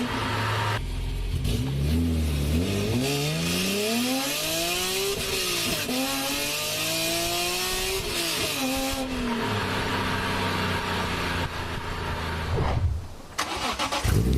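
A BMW E46 M3 with its S54 inline-six and raspy exhaust starts up and revs repeatedly, pitch sweeping up and down in close, loud blips before settling to idle and cutting off near the end, with no talk.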